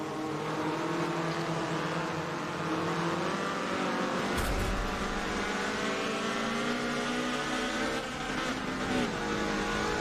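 Group C race cars thunder along a circuit, engines roaring loud and continuous, with a sharp burst around the middle as one brakes hard into a corner during a side-by-side pass.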